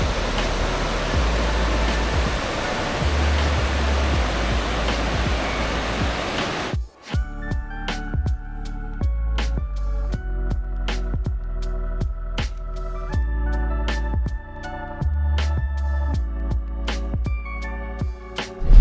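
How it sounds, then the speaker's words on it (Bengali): The Jaldhaka river, flowing beside the Jaldhaka hydroelectric power station in the Dooars, gives a steady, loud, broad rushing for about seven seconds before the sound cuts abruptly to quieter sparse clicks and tones. "আমার ডান দিকেই রয়েছে এই যে জলঢাকা নদী।"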